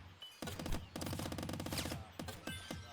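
In the game Squirrel with a Gun, a pistol fires in quick, sharp, closely spaced bursts. The shots are loud and near, and they stop briefly and then start again.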